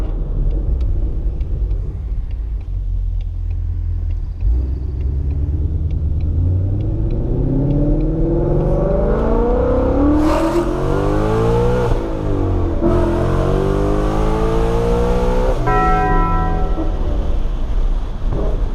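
A 2020 Ford Mustang GT with a Corsa Sport exhaust rumbles and climbs through rising revs, a deep, close, loud exhaust note sweeping up and back down, with no talking.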